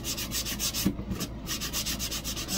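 Steady back-and-forth rubbing of sandpaper on a painted wooden farmhouse sign, a quick regular rhythm heard close and alone with no talk, and one short pause partway through.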